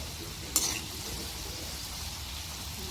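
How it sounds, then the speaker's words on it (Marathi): Pea kachori deep-frying in oil on a low gas flame, a steady faint sizzle with one brief clink of a utensil near the start. "आपल्याला मंद गॅसवरतीच तळायच्यात कचोऱ्या"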